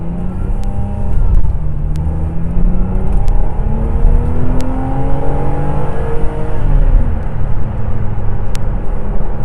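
A Ferrari 612 Scaglietti V12 pulls away with its six-speed F1 automated manual gearbox in automatic mode, the engine note rising in loud sweeping pitch climbs that dip and restart at each upshift, close and without talk.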